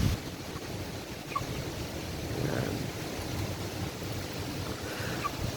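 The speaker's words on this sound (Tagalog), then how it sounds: "Malakas yung hangin dito sa amin." Strong wind sweeping across a small chicken farm, a steady, full rushing roar that swells and eases slightly throughout, with no speech.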